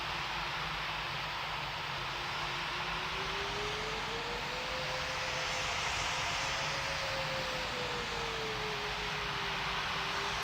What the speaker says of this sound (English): I said hold position, not take off.